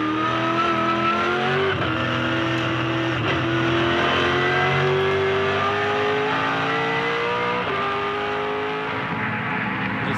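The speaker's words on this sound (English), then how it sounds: "Little throttle resets there at turn nine for Jamie." A 2007 V8 Supercar engine at Phillip Island, loud and continuous, with rising and falling revs and a few sharp throttle blips at the turn nine lift-off, racing alone without talk.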